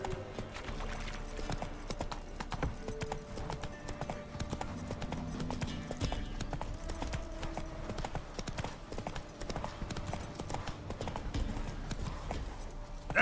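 Hooves of Roach, the horse in the video game Witcher 3, beating a rapid steady clip-clop gallop across the whole stretch at moderate volume, with faint game ambience underneath.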